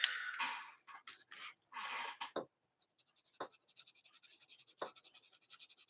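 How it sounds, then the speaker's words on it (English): A coloured pencil pressed firmly scratches across paper while colouring, dense rasping strokes at first, then sparse faint scratches and taps, close and quiet with no talking. "So I'm putting a bit of pressure on the pencil"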